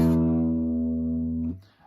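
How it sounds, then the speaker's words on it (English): A single low note plucked on a thick guitar string rings out alone with a steady, sustained tone for about a second and a half before being damped, leaving a faint rustle. "Thick strings make low notes like this."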